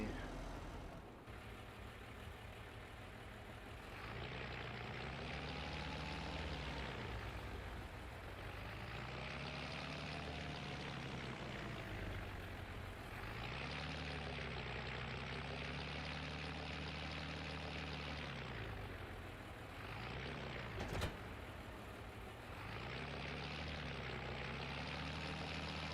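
A tractor engine in the video game Farming Simulator 25 runs steadily in reverse, a loud continuous drone whose pitch swells and falls in repeated waves, with one sharp click late on.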